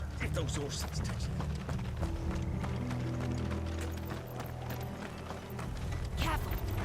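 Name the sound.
horse hooves clip-clopping in the Final Fantasy XVI video game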